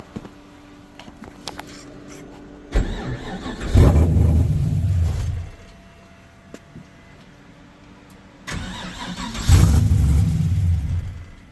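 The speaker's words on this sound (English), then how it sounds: "start the car back up" A car engine cranks and catches twice during an O2 sensor diagnosis, each start rising into a loud rev before settling, with quieter pauses between attempts.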